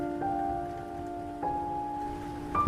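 Steady rain patters on a surface with a low, sustained hum underneath, growing a little louder near the end.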